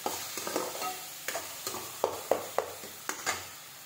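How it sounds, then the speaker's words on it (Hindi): Spices roasting in a kadhai are stirred with a series of quick, rhythmic scrapes and taps over a low, close sizzle. "तो यहाँ पर हमारे मसाले भून रहे हैं"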